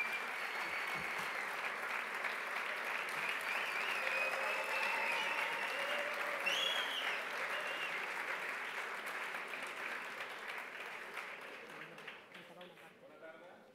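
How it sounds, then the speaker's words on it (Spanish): An audience at an awards ceremony applauds a jazz band being welcomed onstage, sustained even clapping that goes on at length, with a voice over it and a gradual fade at the end. "Venga, un aplauso para ellos."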